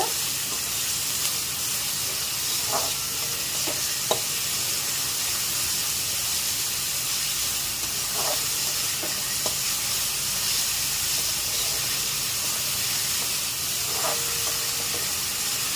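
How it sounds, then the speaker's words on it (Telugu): Onions frying in a pan until brown for a chicken fry, a loud, continuous hiss of sizzling with a few faint knocks scattered throughout, no voices. "బ్రౌన్ కలర్ వచ్చేదాకా ఆనియన్స్ వేయించుకోండి."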